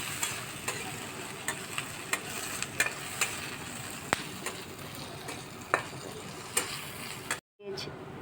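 Four pieces of dried fish (shutki) fry in a pan, giving a bright continuous sizzle broken by repeated scraping and stirring clicks, with a quick dropout near the end and faint speech in the background.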